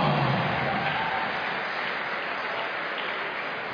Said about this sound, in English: The round of applause going for our gallant runner-up of that bout, Francis Maynard